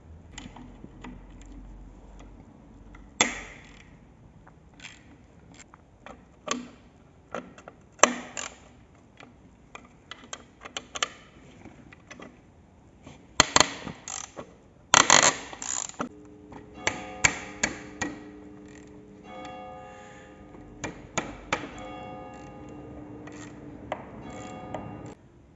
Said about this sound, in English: you need to untighten the bolts here from the alternator and the nut from this bolt of the alternator